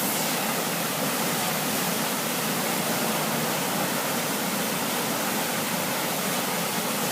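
Floodwater roars steadily out of a big culvert under a concrete slab during an Easter storm in SW Douglas County, Missouri: a dense, unbroken rush like a waterfall, close and constant throughout with no voices.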